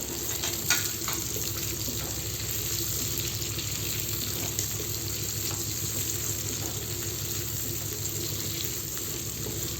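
Square-cut onion and capsicum fry loudly in a very hot kadai with oil for chicken chilli, giving a steady close sizzle with light stirring and no talk.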